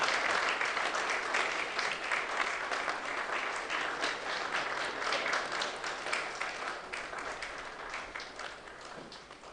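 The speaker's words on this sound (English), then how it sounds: "Is here welcome with a round of applause" A sustained round of audience applause at a seminary alumni homecoming, a dense, steady clatter of many hands that tapers slightly near the end, with no talking over it.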